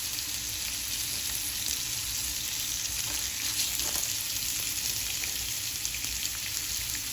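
Sausage frying in a pan on a stove at medium heat, a steady dense sizzle that holds evenly throughout with faint spatters and no voices.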